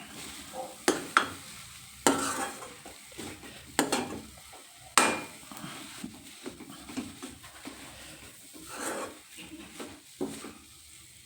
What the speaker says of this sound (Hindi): मैं इसे मावे के साथ ही अच्छे से मिक्स कर देती हूँ। दोनों भुन भी जाएंगे और अच्छे से मिक्स भी हो जाएंगे।